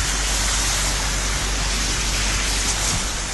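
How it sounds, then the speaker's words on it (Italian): Heavy rain falling steadily during a flood in Veneto, a dense, continuous hiss of downpour with no breaks, loud and close, with no voices. "La pioggia continua, poi smette di cadere"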